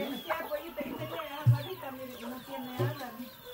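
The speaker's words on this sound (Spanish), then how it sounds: "Ya comen granos de maíz, los pollitos." Young chicks pecking at corn kernels cluck and peep softly in short, scattered calls, fairly close and low in volume, while people talk quietly in the background.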